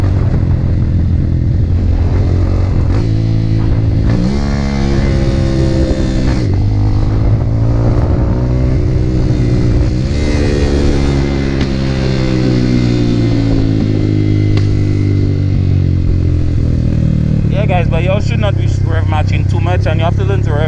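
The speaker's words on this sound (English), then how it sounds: "so basically this is rev matching" A motorcycle engine is blipped and revved repeatedly while rev matching on downshifts, its pitch climbing and falling in waves. The engine is close and loud, and wind rushes past throughout.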